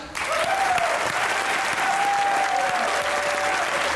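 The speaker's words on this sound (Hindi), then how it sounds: "तालियां बजती रहनी चाहिए।" A talk show studio audience claps in sustained, dense applause, loud and even throughout, with a faint voice briefly audible underneath.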